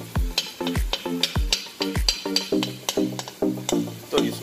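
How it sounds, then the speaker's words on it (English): Crappie and sand bass pieces are stir-fried in a wok, with steady rhythmic scrapes and clanks of a utensil against the metal and a soft sizzle underneath, close and fairly loud. "Take you some fish, put it in a wok."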